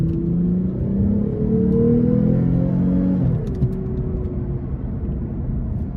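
2023 Lexus IS 350 F-Sport with a naturally aspirated V6 accelerating under throttle, engine note rising in pitch and loudness, then dropping as it shifts and settles into a lower rumble.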